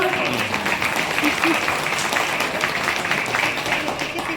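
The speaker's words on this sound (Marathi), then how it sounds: "आपले गुरुवाले आहेत त्यासाठी पुन्हा एकदा जोरदार टाळ्या होऊन जाऊ द्या" An audience at a get-together gives a round of applause, with steady clapping from many hands running the whole way through, heard at moderate distance.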